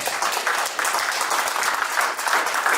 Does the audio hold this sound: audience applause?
yes